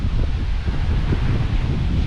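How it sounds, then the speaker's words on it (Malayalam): Strong wind buffets the microphone at an old historic site in Murshidabad, West Bengal, a steady, loud low roar of gusts with rustling throughout, no voices. "അമ്മാതിരി കാറ്റ്."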